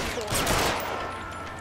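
A fast, loud volley of gunfire in the LA Noire video game, several shots packed into a second and a half of dense noise.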